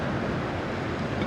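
Waves break at a beach in a continuous broadband wash of surf, close and fairly loud, with wind noise mixed in and no voices.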